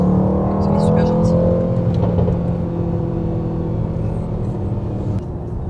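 Mercedes-AMG GT 63 S engine while driving in automatic mode, a steady low rumbling hum inside the cabin with slight revving, gradually easing off, as people talk in French.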